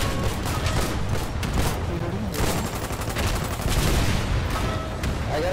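Rapid bursts of gunfire and a grenade explosion in a World War-style multiplayer video game battle, loud and continuous with overlapping shots throughout.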